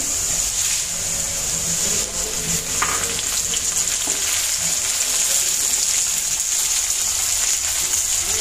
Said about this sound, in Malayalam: ഇനി ഞാൻ ഇതിനകത്തേക്ക് നമ്മൾ അരിഞ്ഞ് വെച്ചേക്കുന്ന മൂന്നായിട്ട് കണ്ടിച്ച് വെച്ചേക്കുന്ന പച്ചമുളക് ഇട്ട് കൊടുക്കുവാണ്